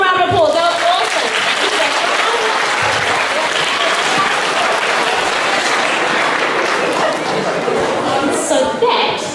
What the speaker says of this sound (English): Everybody give her one more round of applause.